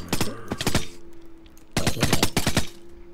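Two loud bursts of rapid MP5 gunfire in a modded Minecraft game, each a quick string of sharp shots separated by a short pause, with a low steady hum running underneath.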